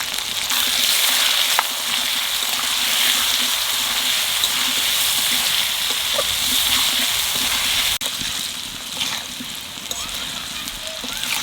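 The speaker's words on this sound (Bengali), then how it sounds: "আলুটাও লাল লাল করে ভেজে নিছি" Seasoned potato pieces fry in oil in a pan before water is added, a loud steady sizzle running throughout with occasional stir scrapes and pops, close to the listener.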